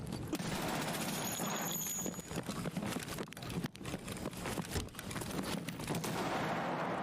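Rapid bursts of gunfire ring out in a video game firefight, dense and fairly loud with short gaps between volleys, and no talking.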